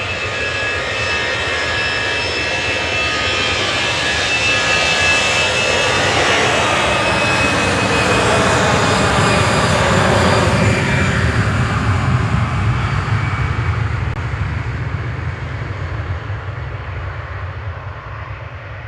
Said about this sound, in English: EasyJet to Basel going next.